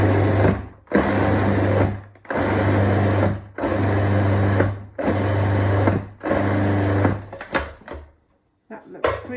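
A food processor whirs in a series of pulses, chopping a small cauliflower into rice: about six loud bursts of roughly a second each with short gaps, then a few brief clatters.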